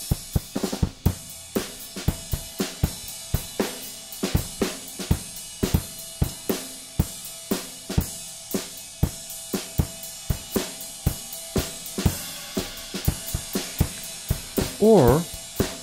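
Track processed with the Airwindows Stonefire plugin: a sharp, percussive pattern of crisp hits and clicks in a steady rhythm, with a brief tonal flourish near the end, moderately loud and heard without talking.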